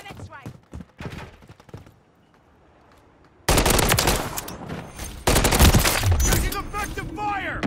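Loud, rapid machine-gun bursts in a Call of Duty shooter game crackle in dense sustained volleys after a quieter stretch of scattered shots, close and harsh.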